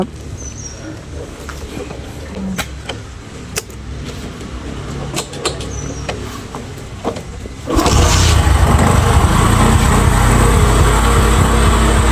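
A Bajaj Discovery 125 motorcycle, a 2013 model about 12–13 years old, starts up partway through and settles into a loud, steady close idle after a stretch of quieter background clicks and movement.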